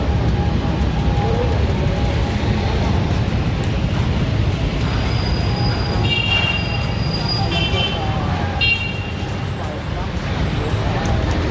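An LRT train passes near Baclaran station amid busy street traffic, a steady loud rumble with brief high metallic squeals partway through, heard alongside general roadway noise and voices.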